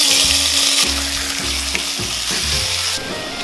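A loud, steady sizzle of bite-sized chicken thigh pieces frying in hot olive oil in a pot crackles continuously up close, with a low humming tone underneath.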